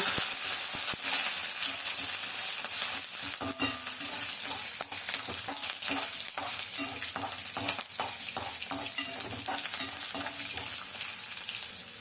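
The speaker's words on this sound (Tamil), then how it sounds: "கடலப்பருப்பு போட்டு பொரிஞ்சிச்சு. அது கூட ஒரு 4 நாட்டு வெங்காயம் போட்டுக்கோங்க." Chana dal, four native onions, dried red chilies and garlic cloves sauté in an oil-filled pan, giving a steady loud sizzle throughout with scattered stirring clicks and scrapes, and no voices.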